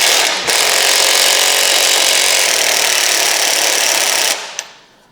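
A small power ratchet works on a boat trailer nut, giving a loud continuous buzzing whir for about four seconds before it winds down and stops.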